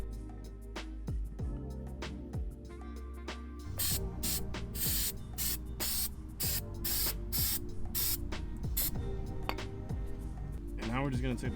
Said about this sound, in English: to clean this, we're just going to be using caliper cleaner